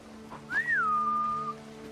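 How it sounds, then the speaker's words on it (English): Jin, the protagonist of Ghost of Tsushima, gives one sustained whistle to call his horse, sliding up briefly and then holding steady, clear and prominent over a faint low ambient drone. "the protagonist, Jin, not only whistles for his horse"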